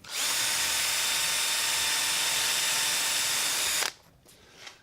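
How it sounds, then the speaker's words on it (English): A power drill with a dowelling jig whirs loudly and steadily into wood for nearly four seconds, then cuts off, leaving faint handling noises. "And then drill it."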